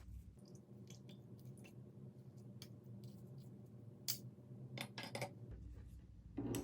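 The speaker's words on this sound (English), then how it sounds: "Press the plant material to help strain the tincture out of it." Wet herbal plant material pressed through a metal strainer to squeeze out tincture gives a steady close squishing and scraping, with a few sharp metallic clicks and a louder press near the end.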